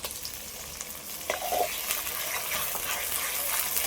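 Onion, tomato and ginger-garlic paste cook in a pan with a steady, close sizzle, a brief wet bubbling burst early on, then an even hiss with light stirring; nobody speaks.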